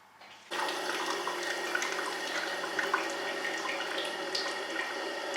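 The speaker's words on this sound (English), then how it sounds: "So I'm just running through the hot water." Hot water runs through a milk cream separator in a steady, even rushing stream that starts abruptly and continues close and moderately loud, like a faucet pouring into metal.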